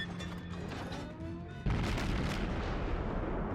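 Naval gun salvos fired at the battleship Colorado in World of Warships from the destroyer Shimakaze, heavy booming blasts over a steady rumble of engine and sea noise, with a louder sustained roar in the second half.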